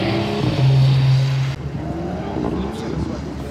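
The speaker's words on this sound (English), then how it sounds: "It's one of the best sounding BMWs today." BMW with an N55 engine on a skidpan, a loud continuous engine drone that holds a steady note and then shifts to a rougher, lower rumble partway through.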